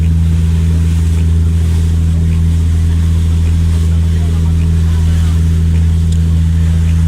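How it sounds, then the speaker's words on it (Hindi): A slow boat crossing toward Koh Phangan island in Thailand, its engine a steady low drone that holds unbroken throughout, with faint wash of water and wind around it. "हमारी जो बोट की स्पीड है काफ़ी स्लो है"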